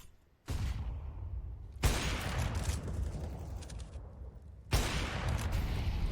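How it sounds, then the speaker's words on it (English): Counter-Strike gunfire in a Vertigo match, a wall bang shot through cover: three sharp onsets of loud, dense firing, each ringing into a sustained noisy tail, with no talk over it. "He's really convinced he's gonna get this wall bang."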